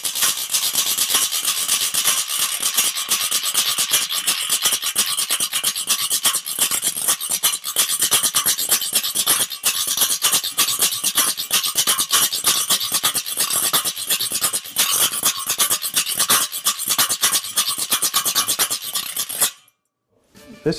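A rubboard played fast in zydeco style, a dense, continuous metallic scraping rhythm that stays loud and steady for about nineteen seconds before stopping abruptly.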